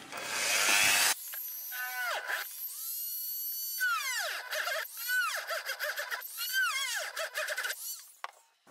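A small electric drill with a 5 mm bit whines in several short bursts, its pitch sagging and recovering as it bites into a wooden fishing lure.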